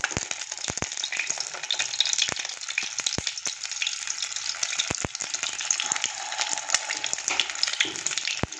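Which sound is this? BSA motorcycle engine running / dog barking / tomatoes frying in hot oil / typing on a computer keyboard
tomatoes frying in hot oil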